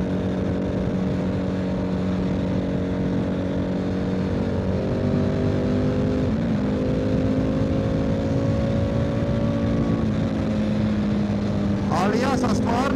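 A Triumph Tiger 900 GT Pro (2024) motorcycle riding at high speed, giving a steady, loud engine drone with broadband wind roar throughout and a brief rise in pitch near the end; no voices over it.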